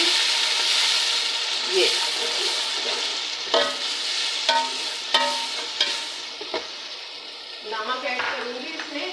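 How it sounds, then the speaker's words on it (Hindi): Spice masala with crushed chilies fries in a pan for chana pulao, producing a loud, bright sizzle with repeated scraping strokes of a spoon and a brief spoken word over it. "और अब इस मसाले को भी मैं इसमें ऐड कर दूँगी और इसे अच्छी तरह भून लूँगी।"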